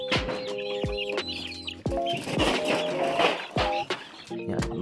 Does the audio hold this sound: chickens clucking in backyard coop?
yes